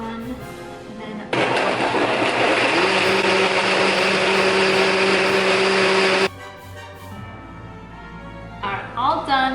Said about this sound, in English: We're gonna pour the cream soda into the blender